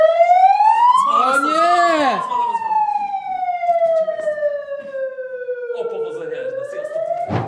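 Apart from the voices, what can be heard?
siren wailing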